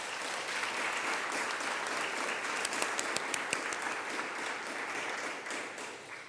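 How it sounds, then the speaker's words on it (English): Steady applause from an audience at a mayor's press conference, a dense even patter of many hands with a few sharper individual claps, moderately distant and continuing for several seconds before tapering slightly. "and that deserves a round of applause."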